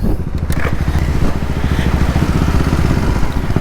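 Kawasaki KLX 230 dirt bike fitted with a 250 exhaust, its engine idling loud and close with a steady, rapid thumping pulse throughout.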